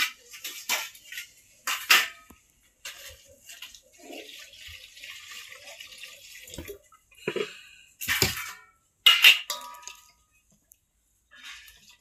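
Fruit and flowers are rinsed by hand for a home puja, with intermittent splashing and trickling water in short close bursts separated by quiet gaps, and no talk.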